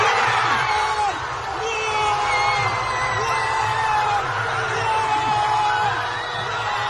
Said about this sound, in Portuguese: E foi com muita torcida nas ruas.